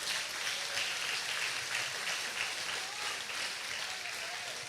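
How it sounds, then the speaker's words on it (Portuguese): A church congregation claps together in praise during a Portuguese-language service, a sustained, even patter of many hands heard at a moderate distance, with no speaking on top. "Vamos aplaudir ao Senhor por isso,"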